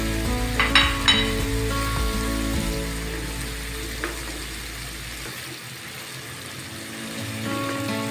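Fried pointed gourd (potol) drops into hot spiced oil in a pan, giving a loud crackling sizzle with a few stirring scrapes early on that gradually settles into a softer, steady fry.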